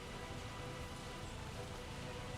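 Steady rain falls across a city-building game world in Workers & Resources, a dense, even hiss of drops with no breaks and no voices, moderately quiet throughout.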